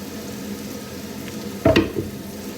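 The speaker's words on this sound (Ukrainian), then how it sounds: "І на сковорідку Кидаю нарізану цибульку." Chopped onions drop into a hot frying pan with a sudden burst of sizzling that quickly settles into a steady low fry, close by.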